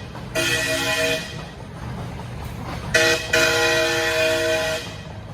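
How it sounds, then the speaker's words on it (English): A mini train sounds two long tonal horn blasts, the second split by a short break, over steady outdoor rumble as it passes behind on a running route. "There is a mini train coming behind me."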